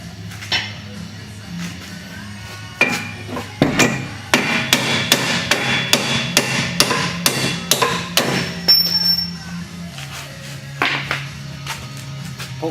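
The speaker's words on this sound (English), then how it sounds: "the rears, like the fronts, have a knurled section, so you're going to have to use a hammer to get them out" Rear strut bolts with knurled sections are hammered out of a 2001 Oldsmobile Intrigue's suspension, a rapid series of loud, sharp metallic blows close by, with a few scattered strikes before and after the main burst.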